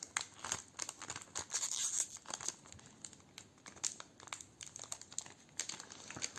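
A Japanese Pokémon card booster pack is opened up close, its foil wrapper crinkling and tearing in quick irregular bursts, fairly quiet and with no speech.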